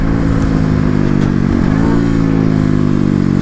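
Kawasaki KLX motorcycle engine running steadily and loud up close, with a brief dip and rev around the middle before settling back to an even drone.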